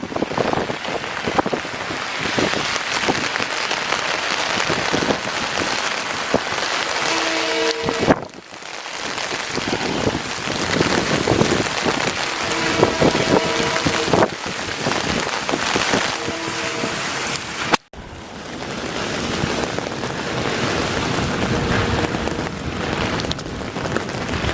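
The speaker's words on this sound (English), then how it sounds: "all the flash flooding going on and the heavy rain" Heavy rain pours during flash flooding in Mineola at night, a dense loud roar of rain on surfaces and rushing water, broken by two brief cuts, with no speech.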